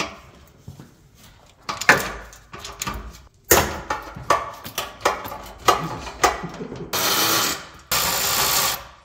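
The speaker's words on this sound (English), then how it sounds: "now we're going to remove the bolts to the header" Ratchet loosening header bolts on a 2014 Porsche Cayman S (981), sharp clicking bursts in uneven strokes with pauses, close by, ending in two longer rasping runs.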